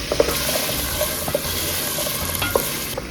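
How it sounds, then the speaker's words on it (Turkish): Chopped carrots sizzle steadily in hot oil, with occasional scrapes and clicks as they are stirred in the pan. "Yağımız yeterince kızdıktan sonra önce doğradığımız havuçlarımızı alıyoruz."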